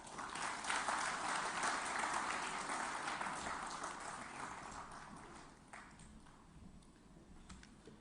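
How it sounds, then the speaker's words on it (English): An audience at a PlastIndia 2023 event in Telangana applauds a speaker walking up to the podium, with dense, steady clapping that slowly thins and fades over several seconds. "we welcome you to the podium with a vibrant sound of claps"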